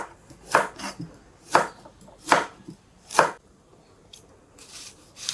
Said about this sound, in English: Now, cut the carrots